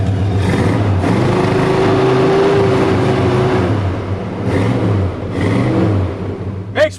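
A 1971 Chevy pickup with a small-block V8 rumbling and revving, a loud, close, deep engine note that rises and holds steady before easing off and surging again.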